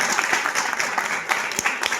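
A church congregation claps in a dense, continuous round of applause, loud and close with sharp individual claps standing out throughout.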